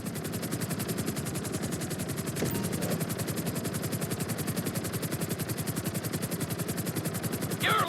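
Helicopter in the video game GTA V flying a flight school course, a loud steady rotor chop with rapid even thumping throughout, continuous and close.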